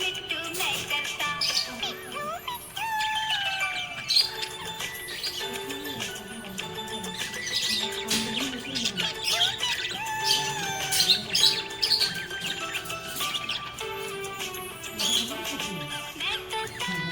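Budgie parrot chirping, with many quick tweets, whistles and squawks in busy, overlapping bursts throughout, close and lively, with a faint tonal background running underneath.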